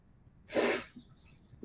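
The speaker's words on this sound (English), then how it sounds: "I'm sneezing a lot." A person gives a single sharp sneeze, a short loud burst followed by quiet breathing.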